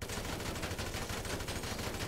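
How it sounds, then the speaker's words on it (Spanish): Long sustained burst of heavy large-calibre gunfire hammering a ramp car in a video game crash test, dense rapid shots blending into a continuous loud roar for the whole stretch, no voices. "Una ráfaga bastante larga para un calibre tan grande"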